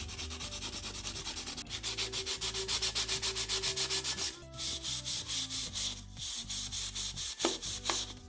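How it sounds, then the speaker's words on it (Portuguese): A soda can being sanded by hand with medium 150-grit sandpaper, giving a close, rhythmic run of rapid scratchy back-and-forth strokes that pauses briefly and then resumes, with no talking. "É preferível você utilizar uma lixa mesmo."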